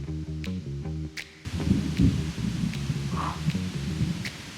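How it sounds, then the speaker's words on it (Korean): Thunder rumbles through steady rain falling around a camping trip, a deep low roll that swells loud and close over the continuous patter after an earlier stretch of tonal humming. "천둥 친다."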